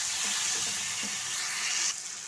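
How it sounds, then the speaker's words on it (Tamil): Water poured into a hot pan of frying leftover chapati and tomato mixture, setting off a steady hissing sizzle that fills the whole stretch, close and moderately loud, easing slightly near the end. "நம்ம இதில் கொஞ்சமாக தண்ணி ஆட் பண்ணிக்கலாம்"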